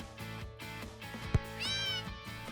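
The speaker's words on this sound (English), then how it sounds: "Something falls from the cat's mouth as it yowls in response and runs away." Cat in a visual novel video game gives one short yowl near the end over a soft musical backing, with a sharp thump just before it.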